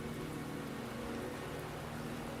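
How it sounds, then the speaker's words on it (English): Rain falls steadily in a video game, a soft, even hiss of drops with a faint low hum beneath, quiet and unbroken throughout. "The rain is subsiding, and the sky will soon clear."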